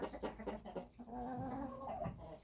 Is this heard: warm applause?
no